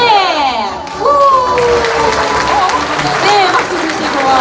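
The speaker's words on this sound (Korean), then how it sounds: "박수 주시고요" An indoor audience at a poetry journal book launch applauding and cheering after a celebratory cake cutting, dense clapping over whoops and voices, loud and close throughout.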